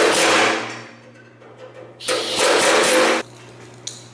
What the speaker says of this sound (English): So I just got an air chisel here, air hammer, whatever you want to call it.